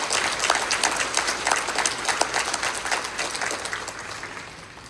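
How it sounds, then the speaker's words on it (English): An audience at the closing of a Hanover County vaccination center claps for fire and EMS professionals, a dense round of applause that stays steady for several seconds before easing slightly toward the end. "I would really greatly appreciate a round of applause for all the fire and EMS professionals that served our community during this time of need."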